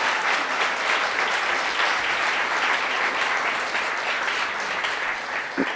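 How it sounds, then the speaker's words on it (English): Sustained applause from an audience at a data science conference welcome session, steady clapping filling the room throughout at an even, fairly loud level. "Can we give them a round of applause?"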